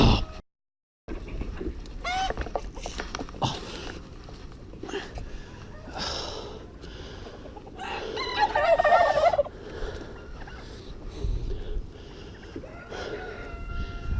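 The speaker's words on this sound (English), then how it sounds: "Morning, turkeys. You going to give us a gobble?" Turkeys on a muddy poultry farm gobble in several bursts of bubbling, rapid calls, some near and loud, scattered among rustling and a person speaking to them between calls.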